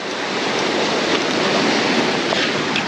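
Rushing river water below a dam at a tailwater fishing access, a loud, steady broadband wash of turbulent flow that fills the whole stretch without pause.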